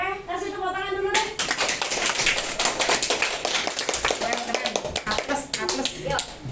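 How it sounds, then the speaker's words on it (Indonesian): Hand clapping breaks out during a mock courtroom session after a short voiced tone. Claps are sharp and irregular, close by, with people talking over them until the end. "kasih tepuk tangan dulu deh"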